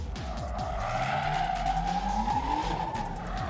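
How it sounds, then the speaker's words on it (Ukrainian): A car drifting in a rough 'village drift' stunt at a Polish tuning show in Kraków: continuous loud tire squeal over a revving, shifting engine note, close and steady throughout with no talking. "Одна із найулюбленіших забав на польських автомобільних тюнінг-шоу це сільський дріфт"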